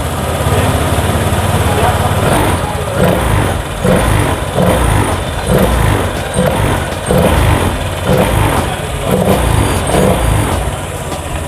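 A fuel-injected motorcycle engine at a throttle body service is revved repeatedly, loud and close, with a steady rumbling base that rises in rhythmic surges roughly every second.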